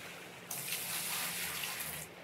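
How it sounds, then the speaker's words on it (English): A bucket of water is poured out in the Gold Rush video game, a short broad rushing gush lasting under two seconds, with no voices. "All right, 3 more buckets of water."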